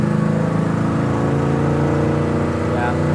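A 1967 Chevrolet Chevelle Super Sport engine running with a loud, steady, unbroken rumble that holds an even pitch throughout.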